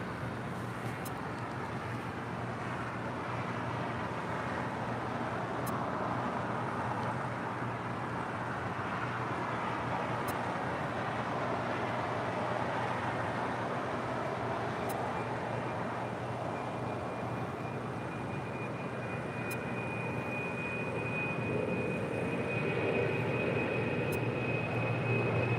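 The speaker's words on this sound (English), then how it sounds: "the Qantas Freight's Atlas Air 747-400 now rolling down at 25 left, heading to Chicago O'Hare" An Atlas Air Boeing 747-400 flying for Qantas Freight rolls down runway 25 left at LAX, heard as a distant, steady jet roar with a thin whine that rises through the second half.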